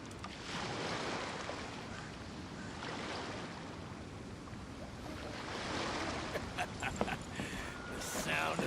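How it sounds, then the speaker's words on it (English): Ocean waves in the video game Genshin Impact, a broad, continuous wash of surf with swelling and receding rushes, steady and fairly loud, with a few sharper splashes toward the end. "The sound of the ocean waves."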